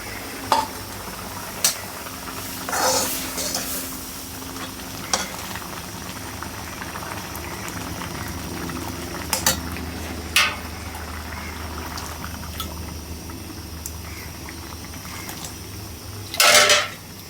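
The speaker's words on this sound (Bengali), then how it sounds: "ডালটা আর একটু সিদ্ধ হোক" Lentils (dal) simmer in a pot on a kitchen stove, giving a low continuous bubbling hiss broken by scattered sharp clinks and brief splashy bursts, moderately quiet with no talking.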